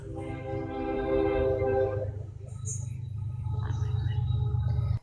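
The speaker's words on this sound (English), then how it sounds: "There's the train." A train passes outdoors with a steady low rumble throughout. A horn-like harmonic tone sounds over it early on, and voices are heard in the background.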